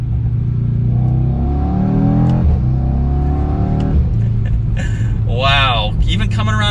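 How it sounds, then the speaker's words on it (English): A 2022 BMW M8 Competition Gran Coupe in race mode downshifting into second, engine revving loud and close with sharp exhaust pops near the end, no talking. "Even having it in the race mode there, you can hear the pops in that exhaust."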